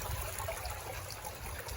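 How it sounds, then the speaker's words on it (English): Water trickles steadily over the edge of a homemade garden pond waterfall, a continuous close splashing and dribbling stream with no talking. "The waterfalls are flowing. So you can see it drips off the edge there."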